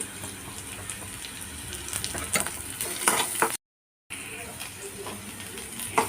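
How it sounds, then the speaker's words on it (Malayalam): Green chili tossed into a hot pan, sizzling and frying steadily while a utensil stirs with scraping clatters, a brief silent gap partway, faint talk in the background. "ഇനി ഇതിലേക്ക് ഞാനിതാ ഒരു പച്ചമുളകാണ് കേട്ടോ ഇട്ട് കൊടുക്കുന്നത്"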